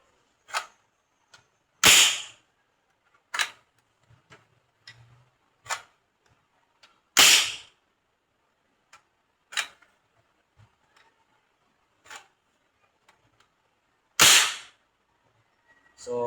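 A homemade PVC toy gun fires 8mm steel balls in sharp, loud cracks spaced a few seconds apart, interspersed with quieter clicks and ticks of cocking and handling, with no talking.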